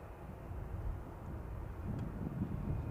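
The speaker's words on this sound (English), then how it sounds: "Emirates is taxiing." An Emirates airliner taxis at Manchester Airport, a low, steady engine rumble heard from a distance with wind buffeting the microphone.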